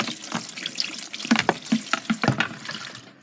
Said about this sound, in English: Get the pasta cooled down under the cold water tap.